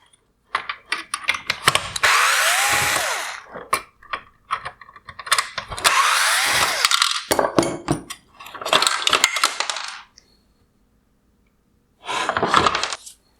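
A power driver backs out T20 Torx screws from a 2016-2019 Mercedes-Benz GLS550 LED headlight housing, running in several loud, close whirring bursts separated by short pauses, with no talk.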